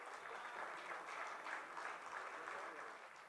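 Audience applause welcoming a performer onto the stage at a ghazal music festival, a steady, dense wash of clapping throughout, fairly even in loudness and heard alone without talk.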